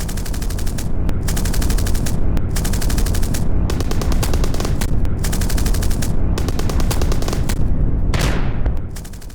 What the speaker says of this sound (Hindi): यूक्रेनी सैनिक जबरदस्त जिस तरीके से गोलीबारी कर रहे हैं उसकी तस्वीरें भी आई हैं।